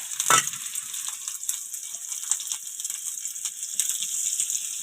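Onion and green chilli frying in a pan for an egg bhujia, a steady bright sizzle opening with a sharp hiss as the ingredients hit the hot oil, then continuing with light stirring scrapes.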